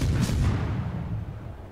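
Battleship main guns fire in World of Warships: one heavy, deep boom that rolls out and slowly fades over about two seconds.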